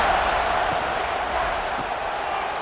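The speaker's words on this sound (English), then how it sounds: "this crowd is at fever pitch" Stadium crowd roaring in a college football video game simulating Miami Ohio against Wisconsin, during a third-down play in the red zone; a loud, steady wash of crowd noise holds unbroken throughout.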